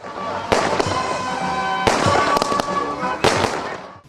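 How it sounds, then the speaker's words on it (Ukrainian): Fireworks salute at the official opening of a mini-football championship, booming and crackling in a steady barrage, with several sharp bursts standing out over a continuous rumbling roar. "Завершилася офіційна частина яскравим салютом"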